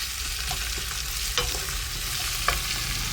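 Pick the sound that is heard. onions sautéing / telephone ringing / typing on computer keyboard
onions sautéing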